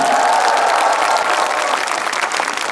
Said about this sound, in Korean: 여러분 두 학생에게 큰 박수를 부탁드리겠습니다.